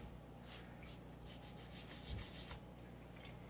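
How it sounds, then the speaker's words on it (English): A cloth rubs thermal paste off an aluminum CPU cooler block from a Dell desktop, giving a soft, repeated scrubbing sound in short strokes, close and fairly quiet, with no talking. "I'll end this video after I remove the thermal paste on the CPU block."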